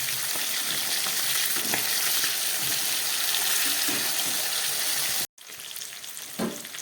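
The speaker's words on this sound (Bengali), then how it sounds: "মাছগুলো ভাজা হয়ে গেছে," Soft bele fish frying in hot oil in a pan, a loud continuous close sizzle with faint bubbling, briefly cut off near the end before resuming.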